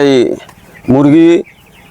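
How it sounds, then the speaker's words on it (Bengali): Twenty-day-old chickens at a poultry farm give two loud, close, drawn-out calls separated by a short pause, with quieter background between them. "আমি একটি মুরগির খামারে চলে এসেছি"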